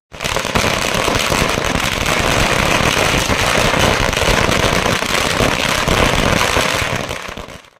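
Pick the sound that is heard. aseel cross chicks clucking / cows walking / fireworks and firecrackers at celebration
fireworks and firecrackers at celebration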